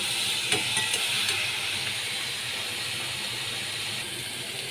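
A steady, loud hiss of steam spreads across the whole stretch as water goes into a hot pan of slow-fried kudri and egg masala. A few brief clinks sound early on, and no one speaks.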